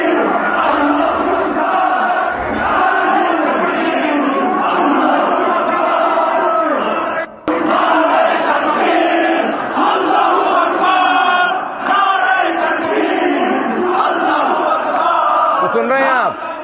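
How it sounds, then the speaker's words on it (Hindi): A massive crowd at a funeral gathering and protest in Bangladesh chants Allahu Akbar slogans in loud rhythmic unison, roaring continuously with shouted calls and responses, a brief dip midway. "सुन रहे हैं आप, नाराए तकबीर, अल्लाहू अकबर।"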